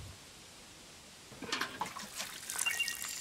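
Crops being watered with a watering can in Len's Island: after a quiet second, a soft splashing, trickling water sound starts at about 1.5 s and runs on fairly close.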